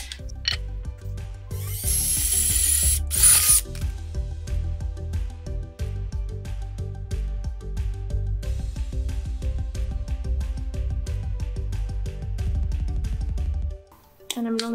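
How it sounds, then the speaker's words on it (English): A power drill runs steadily at close range with a buzzing motor and clicking, grinding bit noise, including a brief hissing burst near the start, then stops near the end. "So now that I've marked the spot, I'm gonna drill my hole for this."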